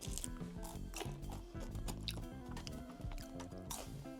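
Close, crisp crunching of someone chewing room-service french fries in a hotel, repeated bites over a low background hum, no talking.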